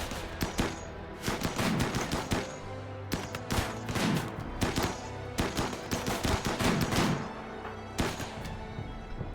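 SMGs and sniper rifles fire in a RimWorld battle as dense clusters of rapid, sharp shots. The volleys rise and fall in uneven waves, with a few heavier thuds mixed in, and no talk.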